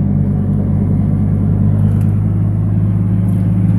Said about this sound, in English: I'm out here driving around the countryside on North Fork Road.